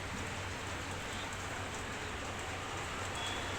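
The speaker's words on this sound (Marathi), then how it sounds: "हा बघा परत पाऊस चालू आला आता." Heavy monsoon rain pours steadily, a dense, even wash of noise with no breaks and no voices.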